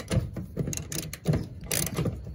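A ratchet tightens a 15mm bolt on the fuel pump strap of a 2005 Dodge Durango 5.7 L: close, repeated clicking strokes in a steady back-and-forth rhythm, with no voice.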